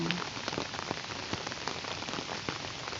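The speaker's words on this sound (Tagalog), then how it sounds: "nalakas-lakas na naman ang ulan" Heavy rain pours down in a steady, dense patter and hiss, spattering on surfaces nearby with scattered sharper drops, continuous and unbroken without speech.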